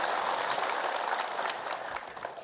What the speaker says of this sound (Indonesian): Boleh tepuk tangan dan semangat.